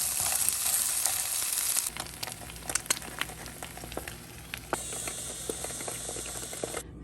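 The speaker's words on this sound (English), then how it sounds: "And I'm adding some frozen hash browns to the pan." Frozen hash browns seasoned with salt, pepper, garlic and onion powder hit a hot pan, then crackle and sizzle steadily with scattered pops and light scraping, fairly close and unbroken by speech.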